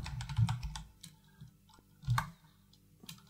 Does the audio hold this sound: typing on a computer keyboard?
yes